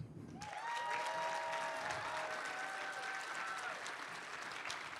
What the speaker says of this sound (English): So I want you all to give a big round of applause to our newest staff member, Dev.